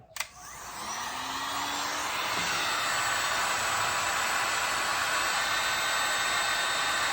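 A heat gun starts with a click and spins up to a loud, steady blowing roar as it heats X-Flock shrink grip on a fishing rod, running close and alone.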